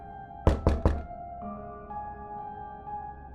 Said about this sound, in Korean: 부대원이 다급한 목소리로 문을 마구 두드렸습니다